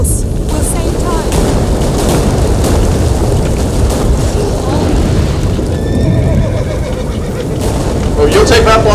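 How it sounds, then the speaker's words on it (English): Fiery bombardment and explosions in The Witcher 3: Wild Hunt, a dense continuous roar of blasts and rumble filling the whole stretch, with horse whinnies, hoofbeats and brief voices mixed in. "You two should probably find cover. It's raining fire."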